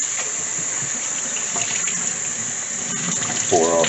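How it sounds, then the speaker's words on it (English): Tap water runs steadily into a sink as soaked chana beans are rinsed, a continuous hissing splash with a brief clink near the end. "So I'm going to rinse these off and then get them into my boiling water."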